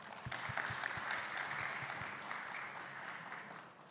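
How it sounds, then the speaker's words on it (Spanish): An audience at an education leadership workshop applauds to welcome a speaker, with continuous even clapping at moderate distance and a few heavier claps near the start. "Recibimos entonces con un fuerte aplauso a Mónica Gomariz"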